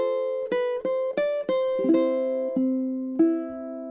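A ukulele plucks measures 21 through 24 of Chopin's Nocturne Op. 9 No. 2, a slow melody of single ringing notes and a few strummed chords, each note decaying gently, clear and close with no talking.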